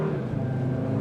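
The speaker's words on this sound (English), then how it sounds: "It's just a very nice exhaust note." A 2021 Audi TT RS coupe with dual-clutch transmission idles and takes a light blip of throttle, its exhaust giving a deep, steady burble close by with no one speaking.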